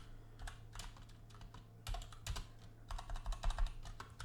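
Keystrokes on a computer keyboard come in quick, uneven bursts of close, crisp clicks with short pauses between them, over a low steady hum and no talking.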